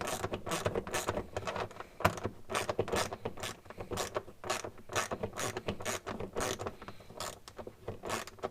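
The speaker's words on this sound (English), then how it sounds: "So I'm gonna place a little screw so that it's fixed" A ratchet tightens a small screw holding a front mudflap on an Alfa Romeo 159 Ti. It gives a steady run of quick, close clicking strokes, rhythmic and continuous throughout, with no talking.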